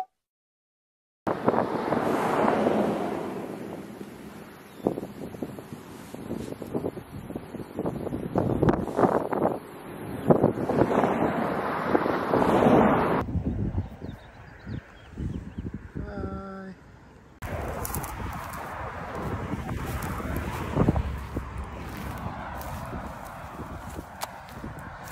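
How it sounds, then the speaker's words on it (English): Strong outdoor wind buffets the microphone on a hill in continuous loud roaring gusts for most of the stretch, briefly easing midway before picking up again. "It's really windy."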